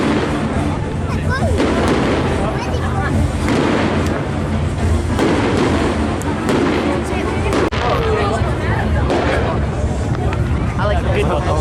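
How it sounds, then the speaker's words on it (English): Fireworks boom and crackle at Blackpool Pleasure Beach, loud repeated thuds and bursts layered over a noisy outdoor crowd with people talking throughout. "I'll put in some highlights of the fireworks"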